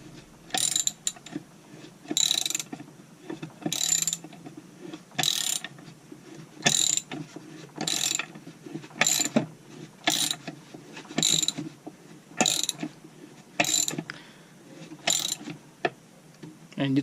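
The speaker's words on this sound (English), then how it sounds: "Grab your ratchet on the nut." A hand ratchet cranks a nut tight during engine case assembly, giving a close series of about a dozen clicking bursts in a steady rhythm, each a short ratcheting rattle.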